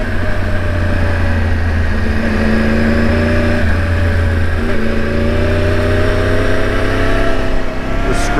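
A big sport motorcycle being ridden to scrub in its rear tire before a track day, with a steady loud engine drone and slight rev changes held throughout and no talking.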